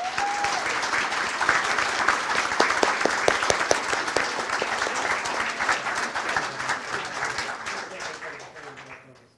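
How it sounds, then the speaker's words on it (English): An audience at a city council meeting breaks into dense, sustained applause that fills the room, then tapers off near the end, with some voices mixed in. "Let's get another round of applause for them."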